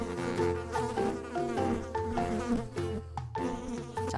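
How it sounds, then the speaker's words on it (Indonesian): Bees buzzing in a video game, a dense, continuous insect drone with a wavering pitch that stays loud and close for the whole four seconds, with no voices over it. "masih ada lebah juga di sini"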